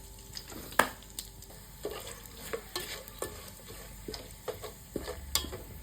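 Whole spices stirred in hot oil in a home kitchen while pulao is started, with a soft continuous sizzle under scattered clinks and scrapes of a stirring spoon, close and moderately quiet, no talking.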